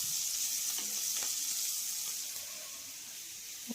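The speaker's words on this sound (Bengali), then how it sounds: "বেগুনটাকে ভালো করে উল্টো পাল্টে ভেজে নিতে হবে।" Brinjal slices fry in a pan with a soft, steady sizzle, close but quiet, with a few faint clicks of the slices being turned and the sizzle easing toward the end.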